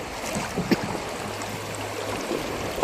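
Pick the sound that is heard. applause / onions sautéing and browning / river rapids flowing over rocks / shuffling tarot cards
river rapids flowing over rocks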